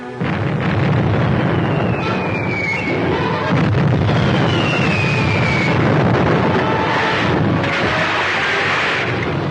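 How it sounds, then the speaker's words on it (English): Radio drama effect of torpedoes fired from a navy vessel: a loud, sustained rumbling roar with rushing hiss and faint whistling sweeps, continuous and dense throughout with no voices. "Four torpedoes fired, sir."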